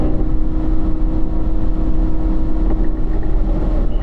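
A Chevrolet Corvette on a race track during a performance driving school lap, accelerating and upshifting, gives a loud, steady engine drone with wind rush throughout.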